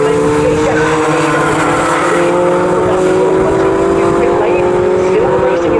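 Fun Cup race cars at Snetterton speed past bumper to bumper in a steady, loud engine roar that holds for several seconds, with a commentator talking throughout.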